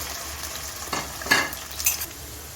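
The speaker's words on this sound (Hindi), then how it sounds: "तो भिंडी इसमें डाल के फ्राई करते हैं" Okra frying in hot oil in a wok, a soft steady sizzle with a few stirring scrapes and light clinks, close but moderate in level, no talking.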